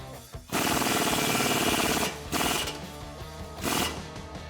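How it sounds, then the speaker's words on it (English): A 22mm tool drives the lower strut bolt tight on a Toyota Tundra during a bolt-on suspension lift install, with loud, close rapid mechanical chattering in three bursts separated by short pauses. "let's tighten up the lower strut bolt. Need a 22mm here."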